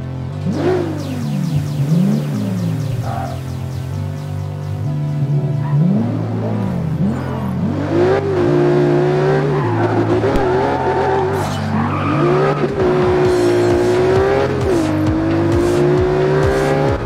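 A car in the video game Need for Speed Rivals drives hard with a loud, continuous engine drone whose pitch rises and falls through gear changes, mixed with repeated tire squeals and skids, and no voices.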